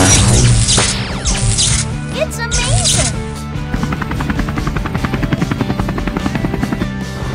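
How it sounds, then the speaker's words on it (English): A cartoon helicopter in a children's construction-vehicle animation whirs with loud, rapid rhythmic rotor chopping, preceded by a few crashing impacts early on. "Helicopter."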